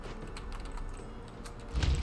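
Keys clatter in a light, uneven patter on a computer keyboard during a gaming stream, quiet and close, ending in a louder thump.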